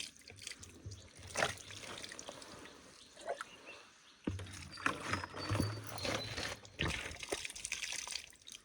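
Water trickles quietly from a village spring as it is collected into a container, a soft uneven splashing heard close by in open outdoor quiet with occasional handling knocks.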